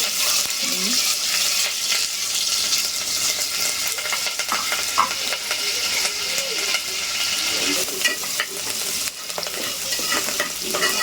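Onion and curry leaves sizzle and fry steadily in hot oil for sambar in a home kitchen, with stirring and occasional utensil clinks throughout.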